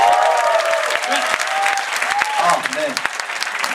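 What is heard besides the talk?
audience applause and cheering at dance show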